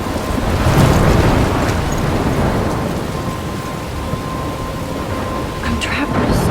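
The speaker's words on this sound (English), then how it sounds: "I'm trapped in a storm?" A loud thunderstorm in the video game Life Is Strange, heavy rain roaring steadily with low rumbling thunder rolling throughout, near and enveloping, no voices.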